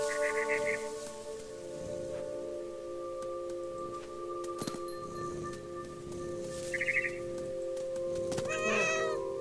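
Cat meowing in the video game What Remains of Edith Finch, a few short high meows, one near the start, one midway and an agitated cry at the end, over a soft ambient music bed.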